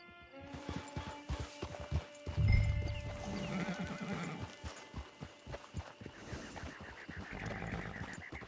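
Horse neighing and hooves clip-clopping in the video game Red Dead Redemption, arriving at a camp: a loud whinny near the start-middle over a steady run of close hoof clops, with game ambience behind.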